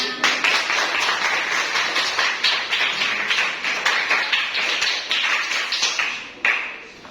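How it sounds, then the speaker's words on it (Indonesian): Classroom applause from a group of pupils at the close of a lesson, steady rapid clapping filling the room for several seconds before fading out, then a brief final burst. "tepuk tangan buat kita semua"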